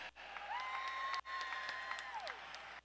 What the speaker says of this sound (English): a round of applause for two great fighters and one great main event